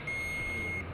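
A continuity tester's buzzer checking a Suzuki ignition coil gives a steady electronic tone that holds evenly for most of a second, then cuts off, with no voices.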